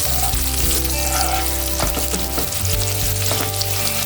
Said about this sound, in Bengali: এবার দেখুন তেজপাতা দিচ্ছি এতে,